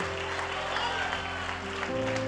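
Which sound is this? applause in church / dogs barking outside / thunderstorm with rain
applause in church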